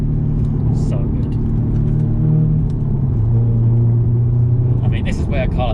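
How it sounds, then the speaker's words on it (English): A manual Toyota GT86 engine rises and falls in steady droning revs through downshifts on a twisty country road, a continuous loud rumble with someone talking over it. "Those downshifts. You just find yourself making an obscene amount of noise all the time."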